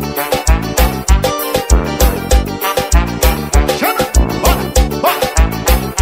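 A dog barks and yips loudly and rapidly in a steady, repeating rhythm, very close and continuous throughout.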